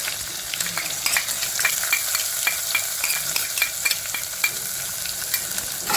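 Asafoetida and thecha chili paste sizzle loudly in hot oil for a Marathi dal methi, a dense continuous hiss broken by crisp pops and the scrape of stirring, close and without speech.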